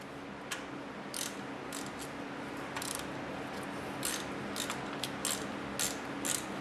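A ratchet clicks in short, close bursts while tightening a 14 mm tensioner bolt on a Nissan SR20DET engine being swapped into a 240SX, the quick metallic ticks repeating over a steady background hum.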